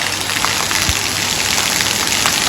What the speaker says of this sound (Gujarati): આજે જોરદાર વરસાદ પડે છે અમારે